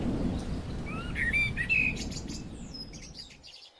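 A small bird gives several quick, sharp chirps and tweets over a steady, rain-like hiss. The calls stand out clearly, then the background cuts off at the end.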